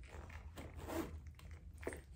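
Zippers on a small purse are pulled open in a few quiet, short rasping runs close by, with pauses in between and no talk.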